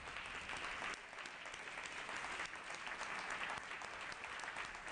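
Sustained round of applause from legislators and guests on a state assembly floor during a session, dense and steady clapping filling the room for the full length without pause.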